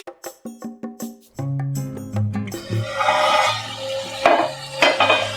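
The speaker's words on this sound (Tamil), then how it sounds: "இந்த இஞ்சி பூண்டோட பச்சை வாசம் போகிற வரைக்கும் நம்ம நல்லா வதக்கி கொடுத்துக்கலாம்" Ginger garlic paste is sautéed in a pan for drumstick biryani, opening with a quick run of close metallic taps before a steady, broad sizzle takes over, loud and near, with no one speaking.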